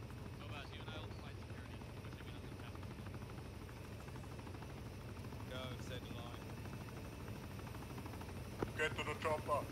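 A helicopter in Arma 3 drones with a steady low rotor and engine hum throughout, while people talk over radio.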